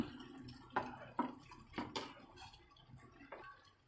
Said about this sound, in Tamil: குழம்புக்கு தேவையான தண்ணி சேர்த்துக்கிறணும்